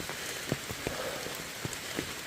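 Rain falls steadily on a hiking trail, a soft continuous hiss with scattered individual drops tapping nearby surfaces, fairly quiet and with no talking.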